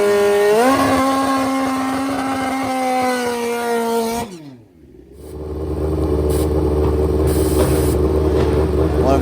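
Old school BMW GS motorcycle being ridden, a strong steady engine drone that climbs, holds, then drops away sharply as the throttle closes before rumbling back up, loud and close with wind noise.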